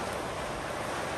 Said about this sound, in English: that noise is the rain hitting the garage door here.